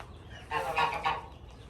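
Soft clucking from a few Brahma and silkie chickens in two or three short bursts, fairly close, with low background rumble and no talking.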